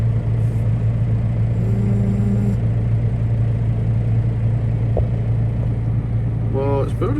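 Heavy vehicle engine idling steadily with a low rumbling hum while building air pressure during repair work on spools, solenoids and valves, with a short voice near the end.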